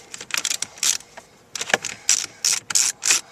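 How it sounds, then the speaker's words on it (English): Phillips screws being backed out of the trim under a Nissan Maxima's removed center console, giving short bursts of clicky, ratcheting metallic scraping in uneven spurts with brief pauses, close by and with no talking. "we're going to remove two screws that go upwards on the right"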